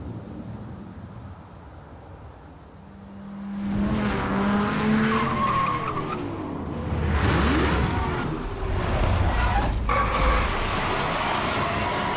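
A Bentley with a W12 engine racing in Need for Speed: Hot Pursuit (2010), a loud engine roar building up with squealing, skidding tires and whooshing passes, close and continuous.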